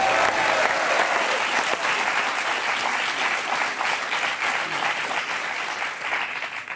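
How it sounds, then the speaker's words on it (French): Studio audience at a French television talk show breaking into loud, sustained applause, dense clapping that stays strong throughout and eases only slightly toward the end. "On peut les applaudir."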